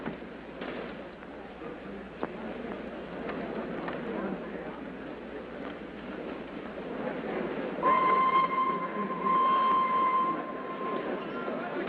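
A train rumbles steadily along the rails, then a long horn sounds near the end, with people talking faintly under the noise.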